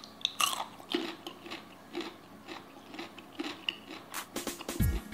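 Someone bites into a raw cucumber and chews it close up, giving a series of crisp, crunchy bites and moist chewing sounds in an irregular rhythm, with no talking.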